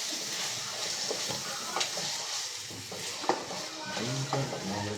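Ginger garlic paste being stirred into a pan while cooking biryani, with a steady sizzle and frying hiss under repeated scraping and clinking strokes of a utensil against the pot, close and continuous.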